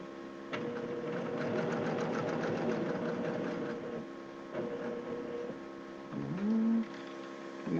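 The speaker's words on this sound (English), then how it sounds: "I'm going to stitch a needle width away, but don't let that pocket move" A domestic sewing machine stitches down a shirt pocket, its fast mechanical whir running steadily for several seconds, pausing, then resuming in short bursts close by, with a brief tonal squeak near the end.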